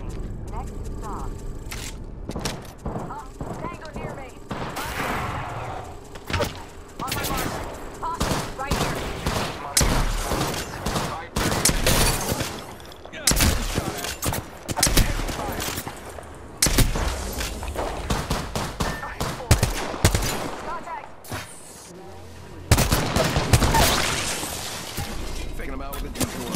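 Repeated gunfire from a Peacekeeper and G7 in the battle royale game Apex Legends, loud clustered bursts and single cracks spread throughout, mixed with game voice lines and other talk.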